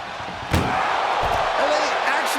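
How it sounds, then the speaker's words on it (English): Ambulance door slamming shut in the WWE 2K25 video game during an ambulance match, one sharp bang followed by a softer second knock, over a constant loud crowd roar and commentary. "Desperately trying to close the first of two doors."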